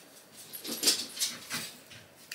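Dog whimpering indoors, a string of soft, faint high whines and squeaks repeating in short pulses.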